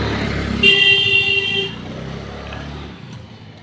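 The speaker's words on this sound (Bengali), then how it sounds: "পিছনে বাইক আসছে।" A motorbike comes up from behind on a quiet, dark street, its engine rumbling close with a horn sounding for about a second before the noise fades away.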